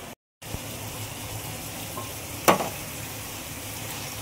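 Shredded cabbage dropped into a hot pan with a little water for a pea curry, sizzling and frying steadily close up, with one sharper burst of stirring and spattering midway. No one talks.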